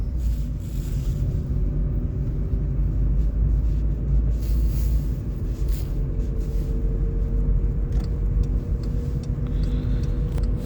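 A car drives through the city streets of Dnipro in winter, with a loud, steady engine and road rumble filling the cabin throughout.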